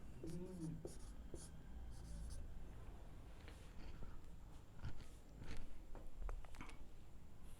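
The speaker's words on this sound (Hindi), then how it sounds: "इधर लिखते हैं।" Chalk or marker scratching on a board during a physics lecture, a series of short irregular strokes and taps, fairly faint, with a lecturer's voice heard intermittently.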